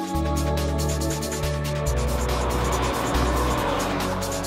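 A BMW 330Ci straight-six engine revs hard and loud, its pitch climbing through several gear changes, with tire noise in the background.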